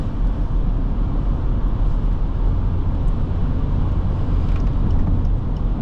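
A 2012 BMW X5 xDrive35i with an 8-speed automatic in sport mode kicks down and accelerates, its engine a steady, loud, dense drone from inside the cabin with no voices.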